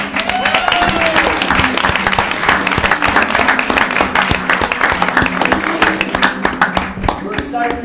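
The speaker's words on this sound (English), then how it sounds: "Give them a round of applause." An audience at a Kaysville city council meeting applauds Davis High School theater students performing from Newsies, steady loud clapping throughout with a few voices and whoops mixed in.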